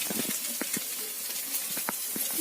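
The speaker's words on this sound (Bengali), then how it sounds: "বোন এবার পেঁয়াজি করছে, পেঁয়াজি ভাজা হবে এবারে" Onion pakoras (peyaji) fry in a village kitchen with a faint, steady sizzle of oil, broken by scattered soft clicks and taps close by.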